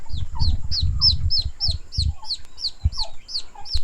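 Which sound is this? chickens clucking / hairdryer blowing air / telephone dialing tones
chickens clucking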